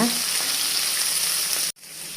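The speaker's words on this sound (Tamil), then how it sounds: "வெங்காயத்தை நல்லா வதக்கிக்கிடுங்க" Chopped onion sautéing in hot oil for a ridge gourd stir-fry makes a loud, dense, unbroken sizzle close up, which cuts off abruptly before resuming more quietly.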